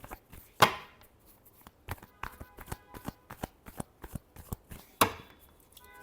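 Tarot cards shuffled by hand at close range, a run of quick crisp slaps and riffles with two sharper snaps, fairly quiet and with no talk over it.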